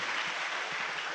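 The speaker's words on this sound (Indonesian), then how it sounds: "Tepuk tangan buat beliau" Audience applause breaking out after a joke at a motivational seminar talk in Indonesia, a steady dense wash of clapping held at one level for the whole moment, with no voices over it.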